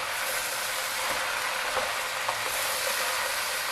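Chicken cacciatore with Kalamata olives gets stirred in a hot pan, a steady sizzle and frying hiss with soft scraping of the spoon, close and continuous, no voices.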